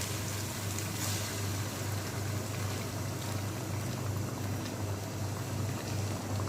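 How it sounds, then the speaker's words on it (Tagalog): Boiling water poured into a pot of chicken biryani with tomato paste, a steady bubbling and watery rush that holds evenly throughout, close and moderately quiet. "Then put boiling water."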